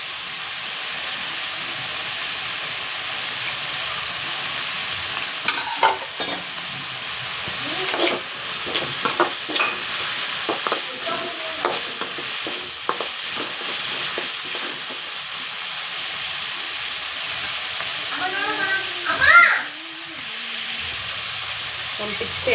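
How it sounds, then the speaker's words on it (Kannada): Vegetables for fried rice fry in hot oil in a pan, a steady close sizzle running throughout, with scattered clinks and scrapes of stirring and a brief louder rattle near the end. "ಈ ಆಯಿಲಲ್ಲೇ ನೀಟಾಗಿ ವೆಜಿಟೇಬಲ್ಸ್ ಎಲ್ಲ ಕುಕ್ ಆಗಬೇಕು"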